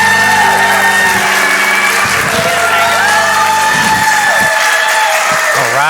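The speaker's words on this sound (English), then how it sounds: "please give a round of applause to Pastor Jacob Waldo this morning" A church congregation at a Sunday service claps and cheers loudly for Pastor Jacob Waldo, with sustained instrumental music playing steadily beneath the crowd noise.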